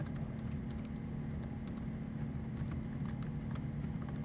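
Typing on a computer keyboard, with quiet, irregular clicks of keystrokes over a steady low background hum, heard alone without speech.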